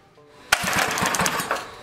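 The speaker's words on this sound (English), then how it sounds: "So I'll just grind a little bit off the end." A grinder works against the end of a metal part from an old 1960 hand-crank mower, a harsh buzzing rasp that starts abruptly and runs with pulsing, uneven bites close by.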